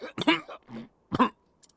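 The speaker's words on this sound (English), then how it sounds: "So you knew you were about to hawk up all that blood" A male character in the video game Octopath Traveler coughs and hawks, rough throaty bursts close and loud with short vocal sounds between them.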